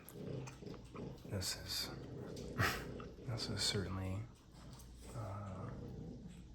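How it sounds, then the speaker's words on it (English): A puppy snorts and snuffles faintly in the background of a quiet indoor room while a soft-spoken voice talks over it. "a lot of extra background noise from the pup today, so I apologize for that. He's snorting all over the place."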